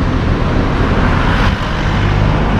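Road traffic in a jam on a mountain road near Manali, a loud, continuous engine and road rumble close by, with no distinct individual vehicles standing out.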